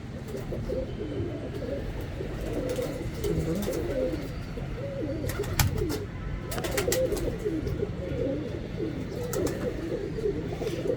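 Breeder pigeons coo steadily in low, throaty rolling calls, several birds overlapping continuously, close by, with occasional faint rustling and clicks.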